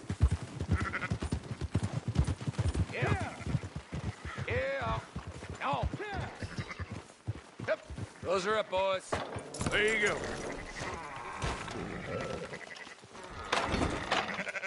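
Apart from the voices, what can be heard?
sheep bleating in a video game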